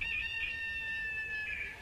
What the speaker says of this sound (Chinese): 这就是闹钟，这还有鸡叫